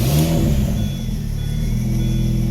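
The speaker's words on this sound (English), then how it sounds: "Start the car." An R53 Mini Cooper engine turns over and catches, settling into a steady low idle rumble, close by.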